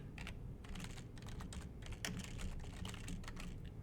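Fingers type a short Python Hello World program on a computer keyboard, producing quick, close, uneven bursts of key clicks with brief pauses between words.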